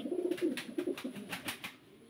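A pigeon for sale, one of the Ashte-coloured and black tailmark birds, coos in a soft repeated series of low rolling calls, fairly close, with no talk over it.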